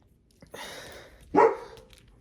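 A dog barks nearby twice, first a drawn-out bark and then a sharper, louder one, with quiet in between and no speech.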